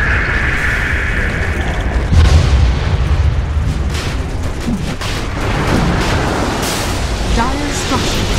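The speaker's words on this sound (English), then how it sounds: "Dire's bottom tower is under attack." A tower under attack in Dota 2, with repeated booming explosions and clashing combat noise over a dense, busy game mix. A voice announcer speaks partway through.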